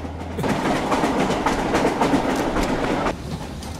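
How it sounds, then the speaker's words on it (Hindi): A train on rail track running steadily with rolling clickety-clack of wagons and a continuous rumble, close and fairly loud, with no talking over it. "सिग्नल रेड है, ट्रेन स्लो हो रही है सर"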